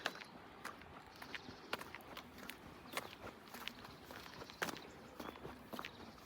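Footsteps crunch over snow outdoors in Japan in a steady walking rhythm. The steps are faint but close, with no talk over them.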